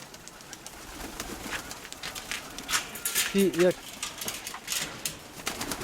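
Pigeons coo softly in a brief burst of low, throaty calls, with scattered rustling, clattering noises and a few spoken words nearby.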